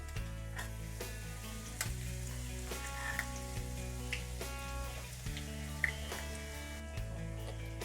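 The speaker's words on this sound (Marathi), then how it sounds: "आपण हा मसाला ना थोडासा तळून घेऊ" Ground spice paste sizzles loudly in hot oil with lightly browned garlic, a close, steady frying hiss broken by occasional stirring scrapes and soft pops.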